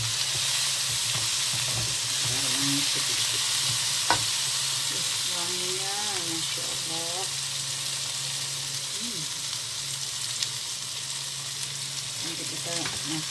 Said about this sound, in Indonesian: Udah minyak dulu, baru masukin daging.